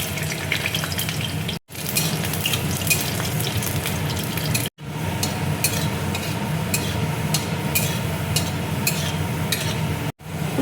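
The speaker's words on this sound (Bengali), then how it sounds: "রসুন আর লঙ্কা দেখো ভাজা হয়ে গেছে।" Dry red chillies and garlic sizzle in hot oil in a kadai, a dense, steady crackling fry with brief stir noises, close and continuous apart from two short cuts.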